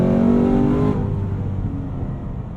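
Hennessey H1000-tuned Cadillac CT5 Blackwing at full throttle, a loud close engine roar that drops in pitch as it shifts partway through, heard from inside the car without talk.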